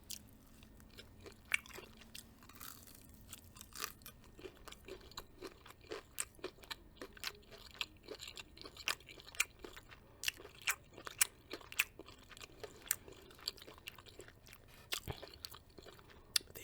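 Close-up chewing and crunching of Popeye's breaded fried chicken strips, with irregular crisp crunchy bites and soft mouth sounds repeating over a quiet background, no talking.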